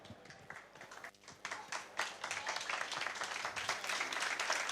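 An audience at a coffee competition in Siracusa breaks into sustained applause, many hands clapping steadily and growing slightly louder, with a few voices faintly mixed in.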